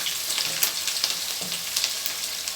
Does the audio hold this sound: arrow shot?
no